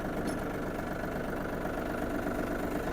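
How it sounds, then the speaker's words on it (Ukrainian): Yanmar AF-22 mini tractor diesel engine running steadily with a close, even, slightly knocking chug, continuous and without talk. "Чиста робота двигуна"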